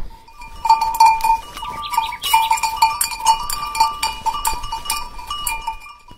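Goats bleating at a beekeeping fair in the Sierra de Cádiz, Andalusia: a herd of bleats overlapping close by, with bells clinking steadily throughout and no talk.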